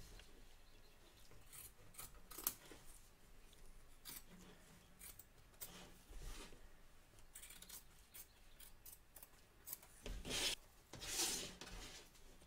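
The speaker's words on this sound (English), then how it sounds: "Trim away the excess batting from around the edge of the stitch line" Scissors trimming excess quilt batting along an embroidery stitch line, soft intermittent snips and rubbing rasps, quiet and close, scattered irregularly with a denser burst near the end.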